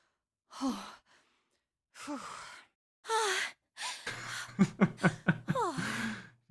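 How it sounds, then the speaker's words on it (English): Several characters in Zero Escape: 999 give breathy pants and gasps, a few separate bursts and then a quicker run of rhythmic panting, close and alone without music. "Because we really need to hear all of them panting, right?"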